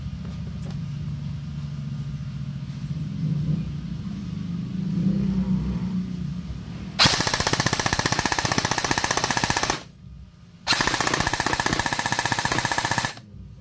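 An LDT MP5K gel blaster toy fires two loud bursts on full auto, a fast buzzing rattle of several seconds each after a low motor hum, with a brief pause between bursts.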